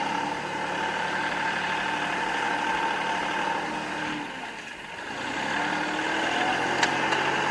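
A tractor engine idles steadily and close by, a continuous low mechanical hum with a brief dip partway through and no talking.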